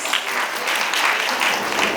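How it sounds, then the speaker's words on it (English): Warm audience applause greets a keynote speaker at a women's entrepreneurship day event, a continuous wash of many hands clapping at a strong, even level. "Big applause."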